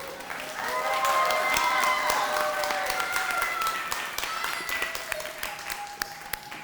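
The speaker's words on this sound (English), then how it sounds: "Let's give them one more round of applause." Sustained audience applause at a healthcare institute graduation ceremony for the class of 2021, many hands clapping steadily across the whole stretch with some scattered voices and tonal sounds blending in, fading slightly toward the end.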